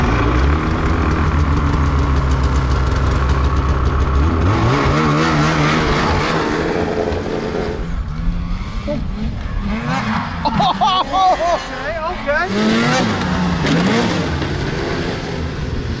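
A snowmobile roaring as it rides through snow and lands a jump, loud and close, the engine revving and then falling quieter after the landing, with people talking and exclaiming through the later part.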